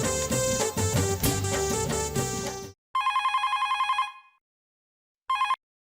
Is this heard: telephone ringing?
yes